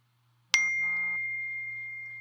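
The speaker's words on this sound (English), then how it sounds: "oh, I got a text message." A phone's text message notification gives a single bright ding, a sharp chime that rings on and slowly fades over about two seconds, close and clear above a faint low hum.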